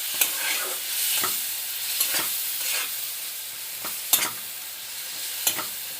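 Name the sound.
stirring soaked spice paste into mango rohu fish curry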